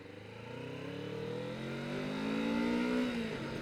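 Harley-Davidson motorcycle engine rumbling steadily while riding, a close, continuous low drone that swells gradually as the bike accelerates, with no talking.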